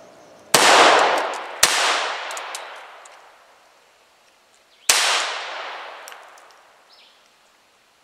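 A Walther P22 .22 pistol with its compensator removed fires three loud, sharp shots at a robot target, two in quick succession and one a few seconds later, each followed by a long fading echo.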